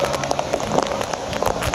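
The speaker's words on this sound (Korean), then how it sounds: "굉장히 소나기가 많이 내립니다" Heavy rain shower pours down steadily at Ilgwang Beach in Gijang, South Korea, dense patter of drops on surfaces all around, loud and continuous.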